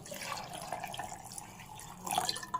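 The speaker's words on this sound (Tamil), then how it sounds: "தண்ணி ஊற்றிக்கிடுவோம்" Water pours and trickles into a mixer jar of ABC juice ingredients with mint in a short, fairly quiet stream, with a slight splashing surge near the end.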